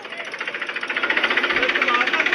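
A close, loud tractor engine chugs in a rapid, even knocking rhythm that builds slightly over two seconds.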